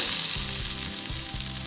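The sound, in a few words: coconut roasting in oil in a pan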